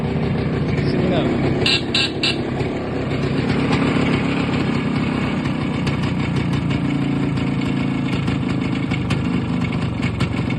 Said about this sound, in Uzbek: Mototsikl texaga ishlab turibdi